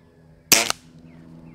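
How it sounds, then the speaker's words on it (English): A single shot from a Weihrauch HW 97K .177 spring air rifle: one sharp, close crack with a brief buzzing spring twang, followed by quiet. "shot cycle sounds buzzier than it feels"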